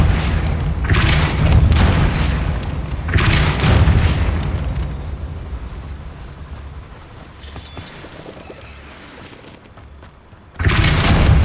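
Depulso force spell cast in the game Hogwarts Legacy, sounding as heavy booming blasts: two loud bursts early, a fading rumble, then another sharp blast near the end.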